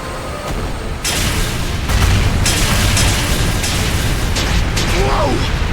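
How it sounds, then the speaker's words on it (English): Loud, dense booming blasts of cannon fire in a game, layered over a continuous rumbling battle din, with a shout partly buried in the noise. "Fire the cannons!"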